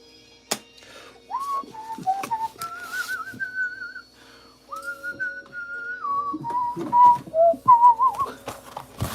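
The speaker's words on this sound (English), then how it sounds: "somebody told me not to whistle straight into the mic" Someone whistles a wavering, sliding tune very close to the microphone, the notes loud and bright, with scattered clicks and taps between phrases.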